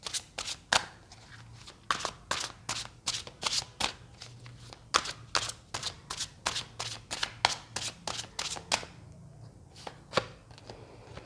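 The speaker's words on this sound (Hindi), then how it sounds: "जब तक मैं कार्ड शफल कर रही हूँ" Tarot cards are shuffled by hand in a rapid run of crisp riffling snaps and flutters, close and fairly quiet, with a brief lull near the end before a few final shuffles.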